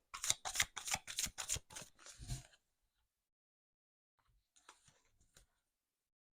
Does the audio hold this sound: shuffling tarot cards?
yes